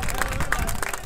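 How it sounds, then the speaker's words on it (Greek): Football fans of both teams at an amateur match applauding in the stands, a dense, steady wash of clapping and crowd noise with a commentator talking over it. "Χειροκροτάνε τώρα και οι οπαδοί των δύο ομάδων τις"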